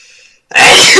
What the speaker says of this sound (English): Am I done sneezing now?